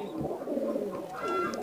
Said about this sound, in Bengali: এটা আমার 9 নম্বর ব্রিডিং এ টেডি কবুতর